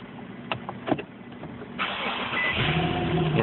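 A Nissan or Infiniti car engine cranks and catches after a few faint clicks and knocks, then settles into a steady, close idle.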